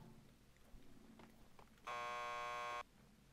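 A door buzzer in the video game Max Payne 2 sounds one loud, steady electronic buzz lasting about a second, standing out from quiet background ambience.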